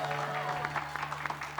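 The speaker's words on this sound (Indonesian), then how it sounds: "Tapi tepuk tangan dong buat Natali Hauser" A television studio audience claps for a guest, moderate scattered applause with distinct hand claps, heard under a steady hum and some talking.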